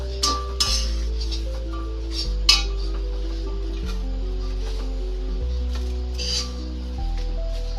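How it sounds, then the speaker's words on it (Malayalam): A spoon scrapes and clinks against a heavy metal vessel as roasted dried shrimp chutney is scooped into another bowl, a few sharp metallic taps over a steady low hum. "ഇനി നമുക്കിത് കോരി വേറൊരു പാത്രത്തിലോട്ട് വയ്ക്കാം."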